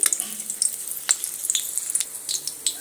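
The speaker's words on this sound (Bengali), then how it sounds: "এবার আমি একটু নেড়েচেড়ে ভেজে নিচ্ছি" Cardamom pods and slit green chillies fry in hot mustard oil, giving a steady close sizzle with scattered small pops and crackles throughout, and no voices.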